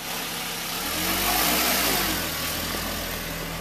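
A Honda car's engine catches after a push start and revs up, a loud broadband roar swelling in the middle and easing back toward a steady run, with no voices over it.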